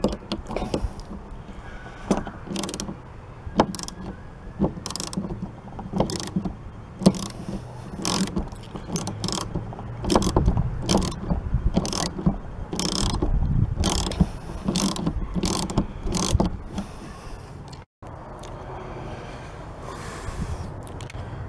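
Ratchet with a socket removing the nut on the rear wiper arm of a Chevrolet Tahoe: rapid, close clicking bursts repeated many times, separated by short pauses and handling sounds, with a steady background hum.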